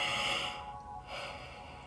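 A person yawns during a full moon clearing ceremony, a long breathy inhale and exhale with a brief pause between, quiet and close.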